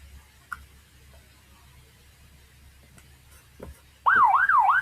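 After a few seconds of near-quiet with faint ticks, a loud police car siren sound effect abruptly starts wailing, rising and falling in a rapid repeating sweep.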